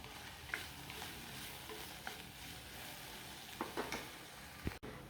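Bitter gourd cooks quietly in oil in a pan, a faint steady sizzle broken by a few soft stirring scrapes and taps, with no one talking.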